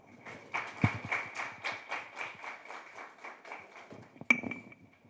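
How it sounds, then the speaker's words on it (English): A thin scattering of hand claps from a small audience at a national student research forum, sparse and uneven with a few sharp individual claps, fairly faint and set against a steady high tone. "let's give her another round of applause, please"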